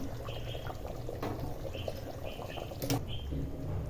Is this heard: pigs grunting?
no